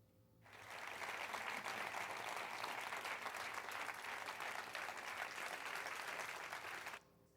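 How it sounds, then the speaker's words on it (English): Applause at the close of a Hackaday Live talk on emotive robots, a dense, even wash of many hands clapping that swells in quickly, holds steady for several seconds, then cuts off abruptly. "I'm pretty sure they added the applause at the end there."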